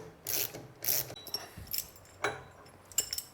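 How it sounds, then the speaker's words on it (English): A simple gear puller works the primary gear off a 2017 KTM engine during a bottom-end overhaul, giving a few close metallic clicks and ratcheting clinks in short separate bursts. "I couldn't pull it off by hand, so I'm using this simple gear puller"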